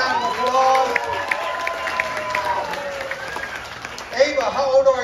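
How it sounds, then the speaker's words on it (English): Audience at a magic show during an international festival in Lafayette, Louisiana, applauding and cheering steadily, with overlapping voices and a few louder shouts near the end. "big round of applause."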